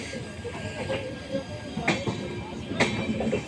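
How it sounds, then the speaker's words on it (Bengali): Balurghat Express train rolls past a station platform, a rumbling pass with sharp metallic clanks and wheel screeches, mixed with people talking nearby. "এই যে দেখুন, এটা ট্রেন চলে গেল,"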